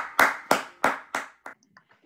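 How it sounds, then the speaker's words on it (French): One person claps hands up close, about five sharp, evenly spaced claps followed by a few quicker, softer ones trailing off, with no voices. "j'aimerais vous applaudir parce que vous avez été incroyable. Alors, c'est moi qui vous applaudis"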